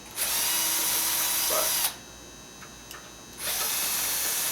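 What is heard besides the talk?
drilling new holes in SX P-Bass headstock for tuners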